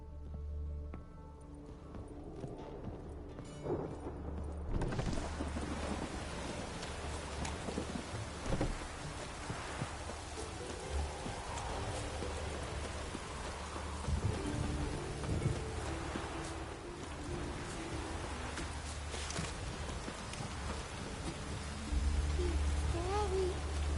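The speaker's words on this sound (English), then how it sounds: "A storm, damn it." Heavy rain pours steadily in a fantasy-world storm, with thunder rumbling low and continuous beneath it; the downpour grows dense after a few seconds and stays loud throughout.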